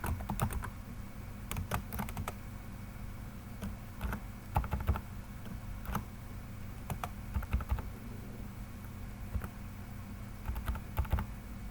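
Steady typing on a computer keyboard as a company phone number is entered, with irregular clusters of light key clicks over a faint background hiss.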